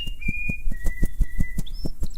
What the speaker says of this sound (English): Bluebird flapped her wings and began to whistle Happy Birthday as loud as her little lungs would permit.